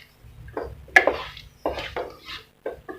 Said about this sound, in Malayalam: നന്നായി ഇളക്കി യോജിപ്പിക്കണം.